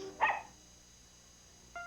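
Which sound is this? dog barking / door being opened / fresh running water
dog barking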